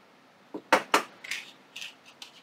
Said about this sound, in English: So let's take another ring and let's open it up.